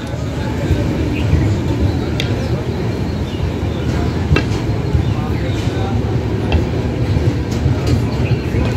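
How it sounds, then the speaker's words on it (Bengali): The 12318 Akal Takht Express rolls into a station with a loud steady rumble and clatter of wheels on rails, and a person talks over the train noise. "একদম কিন্তু 5:40 ট্রেন ঢুকেছে, একদম রাইট টাইম।"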